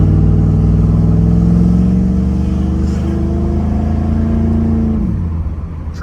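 A 1986 Chevrolet Camaro IROC-Z 5.0 V8 pulling from inside the car, engine tone rising steadily through a gear before an upshift drops the pitch near the end, loud and close.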